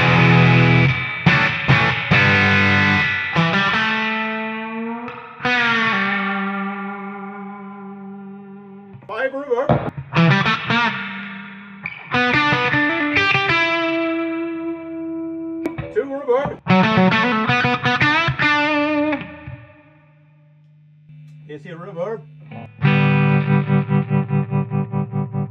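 Electric guitar played through a Traynor Guitar Mate Reverb YGM-3 amp with reverb at full, chords and single notes ringing out and trailing off into a washy, echoing tail.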